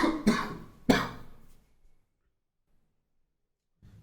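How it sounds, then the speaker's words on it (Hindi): A lecturer coughs twice in quick succession, close and fairly loud, the second cough trailing off, followed by quiet. "थोड़ा खांसी आ गया था"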